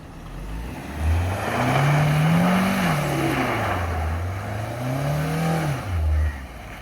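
A Suzuki Jimny's engine revs up and down in rising and falling swells while the car drifts, loud and close with a rough, steady roar.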